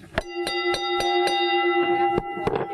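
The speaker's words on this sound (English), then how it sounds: "The bell." A ringside bell at a kids' wrestling match is struck in a quick run of about eight sharp, ringing clangs, each one close and clear and left to hum briefly.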